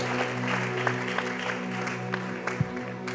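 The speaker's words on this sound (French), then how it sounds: "On peut acclamer très fort et on va commencer" A church congregation applauds loudly in a sustained, dense wash of clapping that fills the room, with a few sharper claps standing out, and no speech over it.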